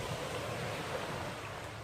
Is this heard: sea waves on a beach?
yes